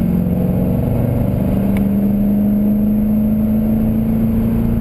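A car engine hums steadily on a race track as it builds speed, a constant mid-level drone with a faint brief click partway through.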